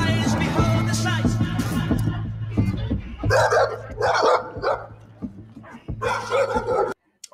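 Dogs barking in the Call of Duty: Modern Warfare 3 trailer, repeated loud barks and yips in bursts over a low rumbling music bed, ending in a sudden brief silence.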